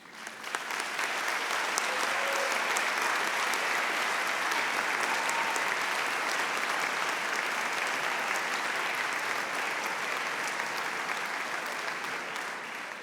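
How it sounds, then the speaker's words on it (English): Audience at a county schools choral concert applauding, a sustained, dense wall of clapping that stays loud and even for the whole stretch before tapering slightly at the end. "stand so we can recognize your support with some thunderous applause"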